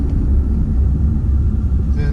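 A 2020 Shelby GT350R cruises on a drive home from the coast, its loud, steady low engine rumble and road noise filling the cabin with little change throughout.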